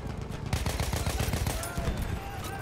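Rapid automatic RSC SMG fire in the video game Battlefield 1, a dense, loud, continuous stream of sharp shots with steady rhythm over rumbling battlefield noise, heard up close.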